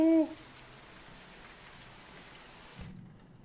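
Steady soft rain patters on a window in the horror game The Mortuary Assistant, faint and continuous, opening with a brief tonal chime and ending with a low thump before sudden quiet.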